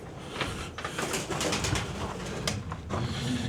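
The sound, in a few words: pigeons cooing in abandoned cottage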